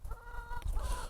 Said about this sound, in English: the chickens as well were flying up here and they were taking the seed